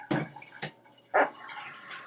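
A pot is rinsed out in a kitchen in Hawaii, with splashing water, a couple of clanks of metal cookware and a short burst of running water, close and moderately loud, with no talking.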